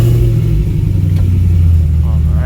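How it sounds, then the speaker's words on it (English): A Chevrolet Camaro engine hums low and steady while driving with the windows down, a close, loud drone with road rumble and no speech over it. "I'm driving with the windows down so you guys can hear the car"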